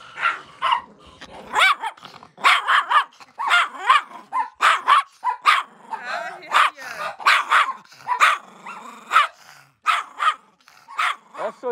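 Small dogs, puppies among them, bark in sharp repeated bursts with growls between, loud and close, with no talk over them.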